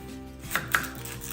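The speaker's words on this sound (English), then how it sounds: "So next up, we're going to cut your onion." A knife chops an onion on a cutting board with two sharp, close chops over a quiet background, and no one speaks.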